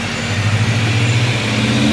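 Supercharged Toyota FRS sports car engine running steadily and loud with a low droning hum, without a distinct blow-off valve whoosh standing out.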